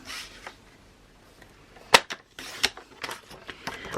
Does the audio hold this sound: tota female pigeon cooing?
no